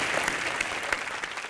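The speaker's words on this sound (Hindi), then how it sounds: "जोरदार तालियां आ जाए" Studio audience at a live Colors TV comedy show bursting into brisk, loud applause, dense rapid clapping filling the room without pause.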